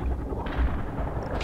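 Anti-aircraft artillery fire from Roland air-defence vehicles in a helicopter combat video game, a dense rumbling barrage of low booms and gunfire running continuously with a sharper thump partway through.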